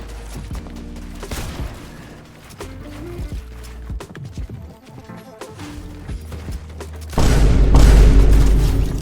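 Gunfire in the video game Fortnite: booming shots and impacts over the game's background sounds, ending in a loud, sustained burst of heavy blasts.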